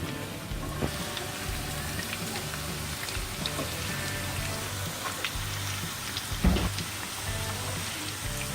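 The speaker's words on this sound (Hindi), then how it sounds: "इन्हें करारा होने तक भूनेंगे।" Potatoes for dum aloo fry in a pan, giving a steady, soft crackling sizzle like light rain throughout, with one brief clatter near the end and no voices.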